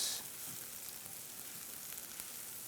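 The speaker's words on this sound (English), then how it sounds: "we want to saute our cabbage here so the onions don't get too brown or burnt" Cabbage and onions sauté in a pan with a faint, even sizzle that holds steady throughout the short stretch, with no voices.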